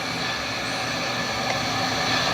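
An MTH Imperial 0-6-0 model steam switcher locomotive runs steadily in reverse nearby, a continuous whirring mechanical hum with faint rattling and clicking, no voices.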